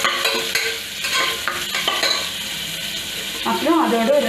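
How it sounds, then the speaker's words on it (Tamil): A small onion stirred and sautéing in a hot pan with cinnamon and cloves for channa masala, close sizzling with repeated scraping stirs of a spoon against the pan. "ஒரு குட்டி ஆனியன் அதையும் நம்ம போட்டு வதக்கிடணும்"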